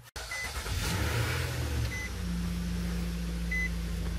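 A 2017 Nissan Murano engine starts and settles into a steady idle with the A/C blower on high, a loud even hum heard close, with a few faint electronic beeps over it.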